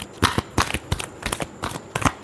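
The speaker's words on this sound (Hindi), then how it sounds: "पर्सन के लिए लास्ट शफल" Tarot cards being shuffled by hand, close and fairly quiet, about six short crisp riffling bursts in an uneven rhythm with brief pauses between.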